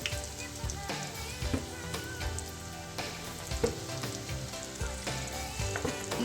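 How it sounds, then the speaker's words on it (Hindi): Bread-crumbed potato snacks deep fry in hot oil, giving a dense, continuous crackling sizzle with rain-like popping throughout. It is close and fairly quiet, with faint occasional clicks and no talking. "इसी तरीके से तमाम स्नैक्स जो है वो फ्राई होने के लिए मैं डाल दूँगी"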